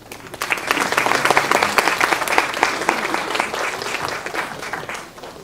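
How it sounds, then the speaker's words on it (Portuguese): A literary festival audience applauds a participant at a reading-and-literature panel, a dense burst of many hands clapping that swells quickly and holds steady for several seconds before easing off, with no talking over it. "E palmas para ele,"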